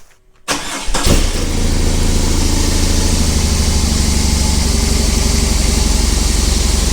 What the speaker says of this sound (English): it's not a very loud or rumbly sounding motorcycle